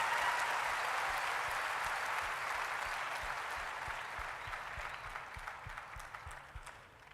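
A crowd at a motivational seminar in Lucknow applauds steadily, dense clapping that slowly fades toward the end.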